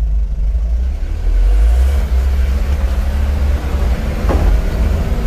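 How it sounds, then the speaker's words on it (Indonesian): A car accelerates forward with a heavy, loud low engine rumble that swells and holds steady, with a brief scrape or clunk near the end. "sekarang maju gas"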